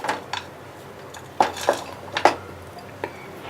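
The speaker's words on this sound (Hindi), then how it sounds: "कढ़ाई ली है मैंने, और इसमें मैं ये जागरी यानी गुड़ इसे डाल दूँगी" Solid jaggery lumps being dropped into a metal kadai make several sharp clinks and knocks at irregular intervals, close by and fairly quiet, with no voices.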